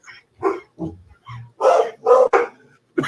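A dog barks in a series of short, sharp woofs with brief gaps between them, close and clear against a quiet background.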